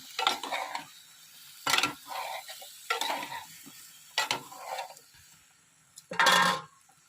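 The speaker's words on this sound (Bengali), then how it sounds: "লাউটা 5 মিনিট কষাবো" Bottle gourd for a meat curry is stirred and sautéed in a pan, heard as five loud, close bursts of spatula scraping and sizzling, each separated by a near-silent pause.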